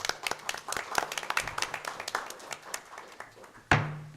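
Scattered hand clapping at the close of a city council meeting, a modest group of sharp, irregular claps fairly near, thinning out, with one louder thump near the end.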